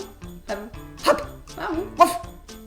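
A handful of dog barks and yips, three or four fairly close, uneven bursts, the last one the sharpest, with no talking in between.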